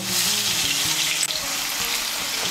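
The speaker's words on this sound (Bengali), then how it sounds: "নুন আর হলুদের গুঁড়োটাকে মিশিয়ে নিয়ে আলুটাকে লাল করে ভেজে নেব" Cut potatoes with salt and turmeric frying in hot oil, giving a steady, dense close-up sizzle with a brief clatter partway through.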